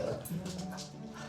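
A dog lets out a short whimpering yip, close and fairly loud, during training with treats, over faint background noise.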